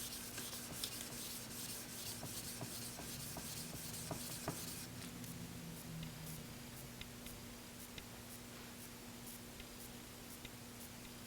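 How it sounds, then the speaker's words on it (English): Barber or groomer shears drawn up and down under pressure on a 2000-grit Naniwa whetstone, making a faint, steady, gritty scraping with a few small ticks, quiet and alone. "2000 grit, nanowa stone, pressure here, up and down"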